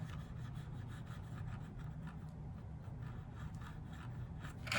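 A model railcar's old weathering paint is scrubbed off by hand. Quiet, close rubbing strokes repeat in a steady back-and-forth rhythm.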